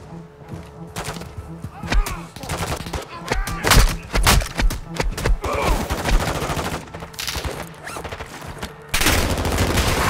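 Call of Duty: Modern Warfare II firefight with rapid bursts of automatic gunfire and single sharp shots cracking loud and close, interspersed with heavier thuds and a constant roar of battle noise, with shouted voices mixed in.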